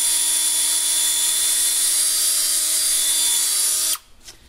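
A cordless drill spins a Scotch-Brite pad to polish surface rust off Volvo 850 front brake hardware, a steady high-pitched whine with harmonic tones that runs continuously for about four seconds, then cuts off abruptly to near silence.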